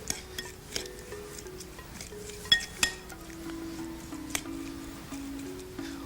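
Lemongrass, sliced shallot and chilies are mixed into a salad dressing, giving quiet clinks and taps of a utensil against a bowl, a few sharper knocks, with a faint tonal hum beneath.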